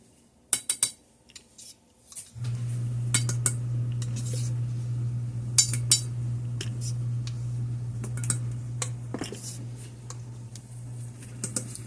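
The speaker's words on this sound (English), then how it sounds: "And then we just want to mix this around." Dry cookie dough ingredients, including cornstarch, stirred in a bowl, scraping and clinking near and steady over a constant low hum, with a few sharp taps at the start and no talk.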